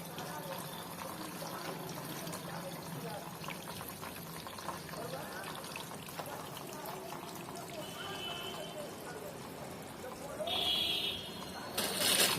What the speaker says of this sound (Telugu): వాటర్ ఫిల్ అయ్యి వస్తున్నాయి చూసారా బయటకి